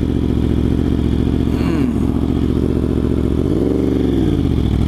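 A 2023 Yamaha R1 sport motorcycle engine runs loud and steady while riding, with a sweeping pitch change as it revs up and then settles, a short clattering thump partway through.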